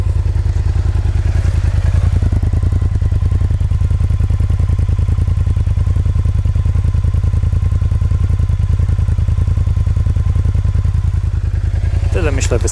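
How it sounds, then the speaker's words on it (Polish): A Kymco CV3 550 maxi-scooter idles steadily with a deep, even exhaust pulse, loud and close for the whole stretch, with a brief clatter near the end. "teraz posłuchamy wydechu."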